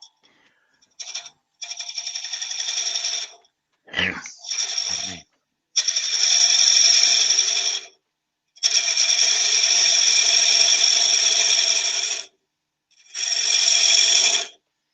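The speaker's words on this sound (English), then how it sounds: "Switch the lathe on." A wood lathe in a woodturning demonstration spins up with a steady, fairly loud motor whine. It runs in several separate stretches, stopping and restarting between them, with a few short knocks and clatters around the fourth second.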